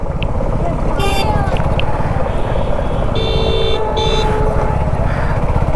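Engine of a Suzuki V-Strom SX250 motorcycle on a ride, a steady loud drone with wind, and several horn toots from passing traffic.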